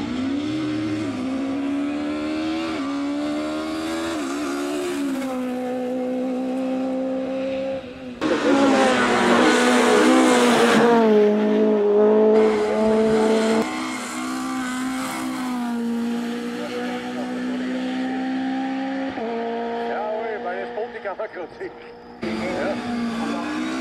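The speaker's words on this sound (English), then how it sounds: "The Corrado is a popular hill climb car." A Volkswagen Corrado race car engine at a hill climb drones and revs through gear changes, rising and falling in pitch as it climbs, loud and close with a steady roar.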